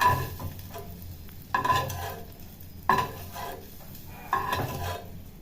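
Vegetables lightly frying in a pan, a low sizzle under four rhythmic rounds of stirring and scraping at close range.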